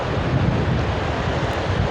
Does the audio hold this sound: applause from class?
no